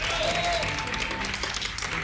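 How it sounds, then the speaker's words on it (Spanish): A studio audience on a celebrity cooking competition show applauds, a dense, steady clapping wash with a voice briefly heard over it. "les pido un generoso y cariñoso aplauso"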